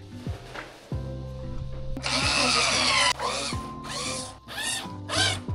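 A power drill drives a screw into an IKEA wardrobe during assembly, producing a loud, close motor whine that rises and falls in several sustained runs, then breaks into shorter bursts, with no talking.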